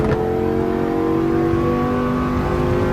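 Porsche 911 GT3 engine in the racing game Assetto Corsa Evo on the Nordschleife holds a loud, steady rev with a constant drone and slight pitch shifts throughout.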